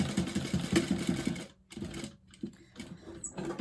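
Sewing machine stitching a bag lining: a rapid, even mechanical chatter for about a second and a half, then shorter, quieter stitching bursts, close by.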